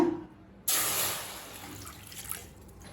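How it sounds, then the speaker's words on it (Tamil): Water splashes suddenly into a kadai and keeps pouring with a steady rushing hiss, then tapers slightly toward the end; close and fairly loud. "கடாயில் கொஞ்சமாக தண்ணி சேர்த்துக்கலாங்க."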